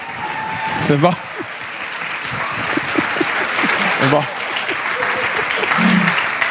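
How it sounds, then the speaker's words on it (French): Congregation applause at a church water baptism continues under a voice speaking briefly over it, steady clapping filling the background throughout. "Ça fait long applaudir 23 personnes"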